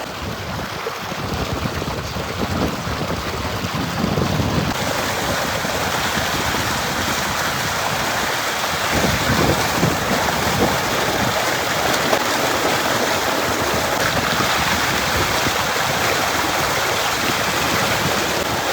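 Steady rushing water pours continuously and loudly, a constant splashing gush with no voices, holding even from start to finish.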